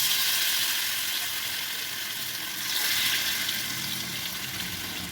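Jackfruit pieces frying in hot oil in a pan, a steady broadband sizzle and crackle that holds loud and even throughout, swelling slightly midway, with no talking.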